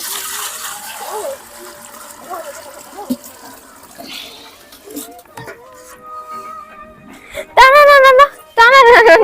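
Water is poured and splashes at an outdoor family picnic where food is being cooked. A steady liquid rush sits under people talking, and raised voices close the moment.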